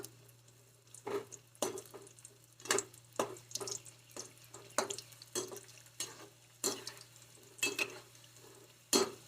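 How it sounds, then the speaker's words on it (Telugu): Cut drumstick pieces dropped into hot oil for a pickle, a quiet sizzle broken by regular stirring clatters and scrapes at a steady rhythm, with no talking. "ఇప్పుడు వీటిని ఆయిల్లో వేసి ఫ్రై చేసుకుందాం ఆయిల్ అయితే వేడైపోయింది"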